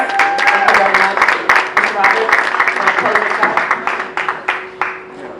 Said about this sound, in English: Let's give them another hand. Round of applause.